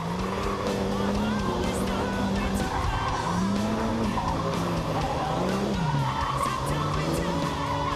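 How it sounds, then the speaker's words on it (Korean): Car tires squeal continuously while a rear-wheel-drive car drifts, a high wavering shriek that rises and falls over engine roar, with scattered crackling and clatter throughout. "비명가도 같은 소리를 지르는 타이어에서 하얀 연기가 피어오른다"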